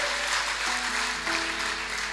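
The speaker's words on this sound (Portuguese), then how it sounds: "Aplauda ao Senhor Jesus Cristo. Bem forte para o Rei da Glória." A church congregation claps loudly and steadily, a dense, even wash of applause with faint organ or keyboard tones underneath.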